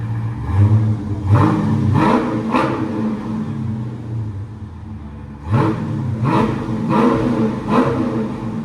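A Dodge Charger Scat Pack with a 6.4L HEMI V8 and aftermarket exhaust revs sharply from idle several times in two close bursts, a deep rumbling roar rising and falling with a brief quieter idle in between.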